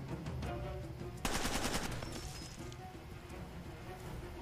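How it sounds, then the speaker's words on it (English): Pistol fire in Far Cry 2 cracks out in a rapid burst of several shots, then trails into fainter reports and background game ambience. "You're really shooting a pistol at me."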